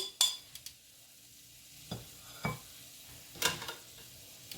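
Onions and celery sautéing in a pot as beef stew begins: faint sizzling sits under several scattered clinks and scrapes of a utensil stirring against the pot.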